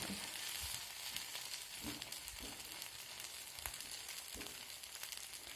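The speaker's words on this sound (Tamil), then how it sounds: "வெண்ணெய் இது பண்ணுறீங்க அப்படின்னா லைட்டாக தேய்ச்சி விட்டு நீங்கள் இந்த ப்ரெட்டை போட்டு எடுத்துடலாங்க" Bread toasts in butter on a pan, giving a soft, continuous crackling sizzle with occasional small pops and scrapes, fairly quiet and close, with no voices.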